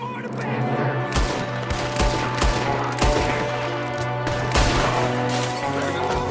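Repeated gunshots ring out in a Red Dead Redemption 2 shootout, sharp loud cracks spaced irregularly over a steady background drone, with voices shouting between them.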